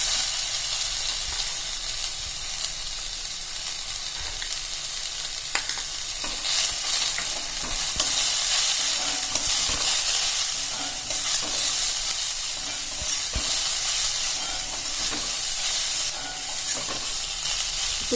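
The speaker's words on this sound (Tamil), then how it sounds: "உப்பு சேர்த்து நல்லா கலந்து விட்டுக்கலாம்" Boiled green beans being stirred with salt in a hot frying pan for beans paruppu usili, a steady sizzling hiss with soft scraping stirs throughout, loud and close, no voices.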